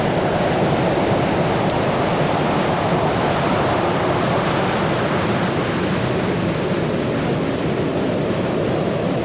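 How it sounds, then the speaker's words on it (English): Big waves break continuously on a rough, stormy sea along a beach, making a dense, loud, unbroken roar of surf with wind rushing across the microphone. "Nice big waves coming in."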